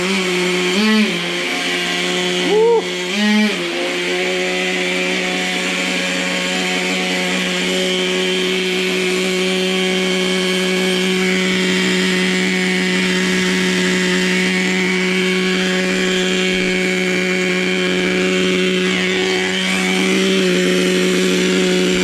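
The nitro engine of a vintage Traxxas Nitro Stampede RC car runs close and loud, a steady high buzzing idle with a few quick revving blips early on and no talking.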